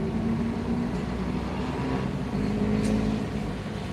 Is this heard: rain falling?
no